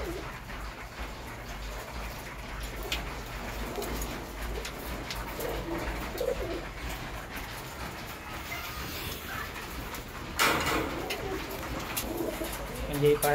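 Young pigeons being raised for flying coo softly and repeatedly, close by, over a low background rumble, with a sharper noise burst near the end.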